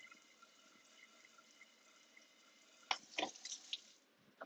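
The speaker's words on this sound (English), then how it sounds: "Let me get a quick rinse on my whisk because I have my waffle batter on there." Water runs faintly from a kitchen tap while a whisk coated in waffle batter is rinsed, a soft steady trickle broken near the end by a few brief louder splashes and clinks, with no talk.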